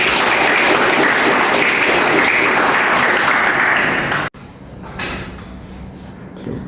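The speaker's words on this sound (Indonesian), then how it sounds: "Silakan diberikan aplaus." A lecture-hall audience at a university class claps in loud, dense applause that continues steadily for about four seconds, then cuts off abruptly, leaving quieter room noise and faint rustling.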